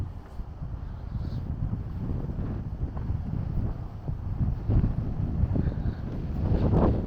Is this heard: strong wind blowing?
yes